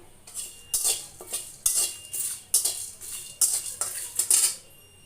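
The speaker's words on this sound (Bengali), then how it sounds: "এবার একটু নেড়ে চেড়ে দিব" Whole spices — bay leaf, black pepper, cardamom and cinnamon — stirred in a cooking pot, a series of close metallic scrapes and clinks from the spoon against the pot in quick irregular strokes.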